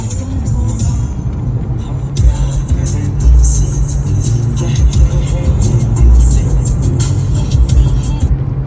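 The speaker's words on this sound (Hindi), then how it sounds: "ये 150 प्लस जो है ना गाड़ी जा रही है इस टाइम" Car cruising fast at over 150 on a motorway toward Faisalabad, giving a steady, loud low road and engine roar with wind noise throughout, and faint voices mixed in.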